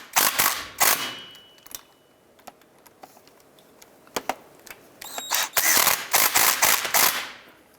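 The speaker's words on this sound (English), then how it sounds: "I'm going to go ahead and just finish tightening these down." Drive shaft flange bolts on a 2002-2009 Jeep Liberty being tightened by hand tool, giving bursts of rapid ratcheting clicks near the start and again toward the end, separated by quieter pauses with scattered clanks.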